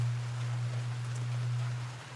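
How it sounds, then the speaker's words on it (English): Light rain sprinkles steadily onto a shelter at an outdoor chainsaw wood-carving spot, a soft broadband patter over a constant low hum, with no talking. "Now it's raining. It's a pretty good sprinkle."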